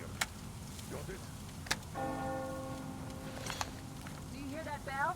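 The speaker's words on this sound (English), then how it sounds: "Do you hear that bell?" A bell rings in the video game Metro Exodus, a sustained tolling tone drifting over a murky ambient background with a few sharp knocks and clicks, moderately faint and somewhat distant.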